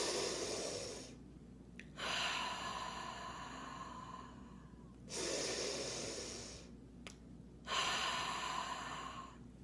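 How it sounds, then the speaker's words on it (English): Slow, deep breathing exercise with three long, loud inhale-exhale cycles, each inhale drawn sharply through the nose, close to the mic, with no talking. "breathe 10 deep breaths like this"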